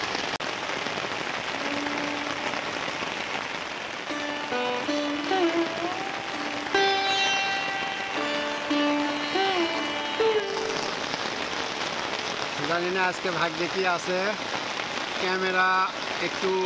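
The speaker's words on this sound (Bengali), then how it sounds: "বৃষ্টি পড়তেছে ছাতা দিয়ে প্রচুর পরিমাণে।" Heavy rain drums on a broken umbrella during a rainy day among water lilies in Bangladesh, a dense steady patter throughout, with someone talking over it and some birdsong.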